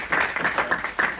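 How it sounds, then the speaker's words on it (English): Brief applause from a panel audience, a short burst of several distinct claps at a fairly quick rhythm, moderately loud and close, ending almost as soon as it starts. "a round of applause for everyone"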